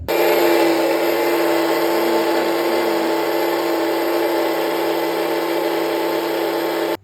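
A mixer grinder blending mango pulp for juice whirs loudly and steadily at high speed, a constant motor drone that cuts off abruptly at the end.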